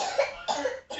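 A child coughs three times in quick succession, close and fairly loud, with short raspy bursts and brief gaps between them.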